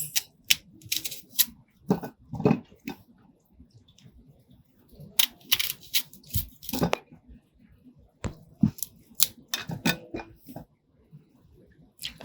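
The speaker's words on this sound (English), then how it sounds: "So I'm going to cut this onion about in half, and the rest of them as well in half." A knife cuts through onions with sharp chopping thuds against a board, arriving in irregular clusters of close, crisp strikes with quiet gaps between them, and a voice talks briefly in places.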